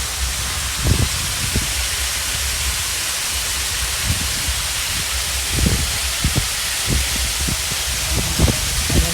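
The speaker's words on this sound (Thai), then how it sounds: "มีน้ำตกเนี่ยที่เราเห็นใกล้ๆ" Steady broadband rushing of falling water, constant and fairly loud, with a few faint low thumps scattered through.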